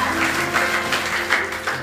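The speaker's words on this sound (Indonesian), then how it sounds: "Tepuk tangan yang meriah buat Tuhan." Church congregation applauding during a sermon, a steady wash of clapping from many hands that swells slightly in places and runs through the whole moment without voices on top.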